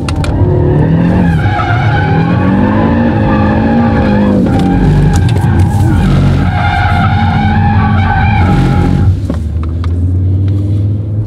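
An Audi RS3 8Y drifts through a corner at the LaSiSe track. The engine roars loudly and its pitch rises and falls through the turn over sustained tire squeal, then the sound drops away near the end.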